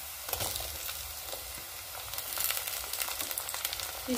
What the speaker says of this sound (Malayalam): നമ്മുടെ സവാള ഇവിടെ ചെറുതായിട്ട് വഴന്നു വന്നിട്ടുണ്ട്